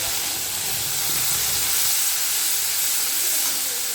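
Onion paste hitting hot oil in a pan on a gas stove, a loud, dense, steady sizzle and hiss that fills the whole moment without pause.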